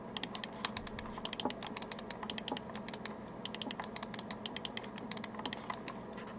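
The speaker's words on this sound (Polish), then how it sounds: "Teraz sobie posłuchajcie jeszcze, jak te przyciski pracują." Mouse buttons on a Gamdias Hades laser gaming mouse click again and again in quick, irregular bursts, sharp and close up, alone over a quiet background.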